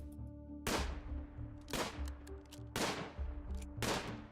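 Four sharp gunshots ring out at roughly one-second intervals as a colonist shoots a fire rat in the video game Rimworld, each crack clear and distinct over a faint background.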